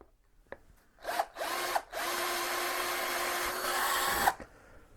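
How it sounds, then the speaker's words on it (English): A power drill whirs steadily into wood, drilling a starter hole for a saw blade, after a couple of short bursts, running loud and close for a few seconds before stopping. "I'm just going to drill a hole here to allow me to get my saw in"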